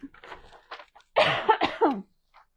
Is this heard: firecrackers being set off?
no